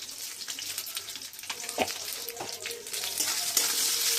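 Jujube (kul) pickle with salt and turmeric is stirred in a pan, giving faint soft scraping and light sizzling with a few brief knocks of the spoon against the pan.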